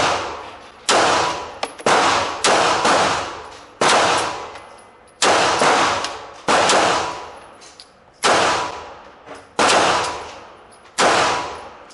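Walther P1 pistol fired one-handed at an indoor shooting range, nine loud sharp shots at uneven intervals, each with a ringing decay, and no talking.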